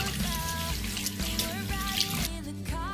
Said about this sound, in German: Bei jeder Vorbereitung immer gut die Hände waschen.